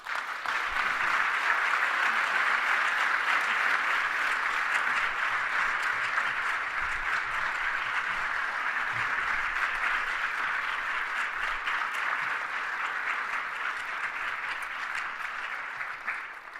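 A crowd applauds steadily after a lecture on race and social justice, a sustained, even wash of clapping heard from a moderate distance that carries on without pause and eases slightly at the close.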